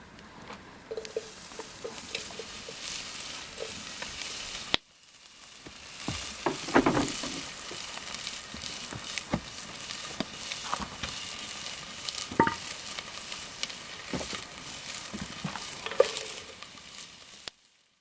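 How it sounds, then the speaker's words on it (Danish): Bacon sizzles and spits in a pot over an outdoor campfire, a steady dense crackle that runs throughout with occasional louder pops and stirring scrapes, and no one talks. "Og vi starter med et fint bål, som Poul har lavet, og stegt bacon"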